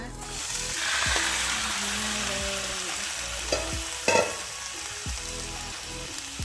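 Pork marinade hisses and sizzles loudly in a hot frying pan, with occasional scrapes and clinks of stirring.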